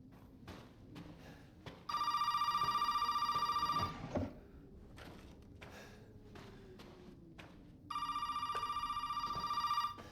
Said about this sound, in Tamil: ஃபோன் அடிக்குதுங்க.